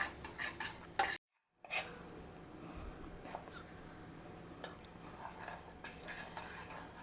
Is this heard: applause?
no